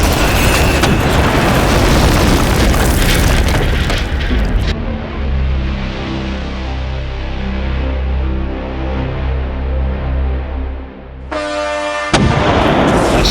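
A World War Two grenade goes off in a loud, roaring blast lasting several seconds, then gives way to a lower, rumbling tail that slowly fades before a sharp, bright burst of noise at the end.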